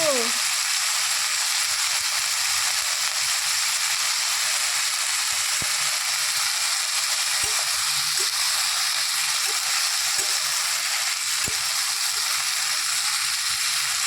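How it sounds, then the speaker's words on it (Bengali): Potatoes and vegetables fry in a pan with a steady, even sizzle that carries on unbroken, punctuated by a few faint clicks and pops. "আলু পটবটি ভাজি খাবে নাকি বন্ধুরা"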